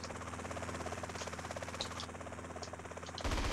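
Steady, droning helicopter rotor and engine noise from GTA San Andreas fills the scene with a rapid pulsing beat, continuous and fairly close, ending in a louder burst.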